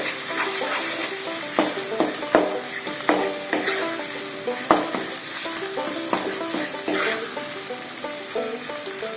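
Chicken in masala fries in a pan for a roasted chicken curry, a continuous close sizzle broken by repeated scrapes and knocks of a stirring spoon at an irregular rhythm, with no one talking.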